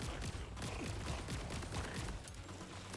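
Rapid gunfire in the Borderlands 4 video game, a dense crackling stream of shots layered over a constant low rumble of game sound, faint and continuous throughout.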